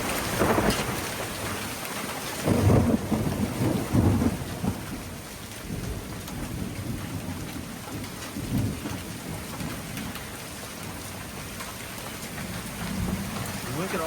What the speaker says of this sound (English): Look at all the hail up here.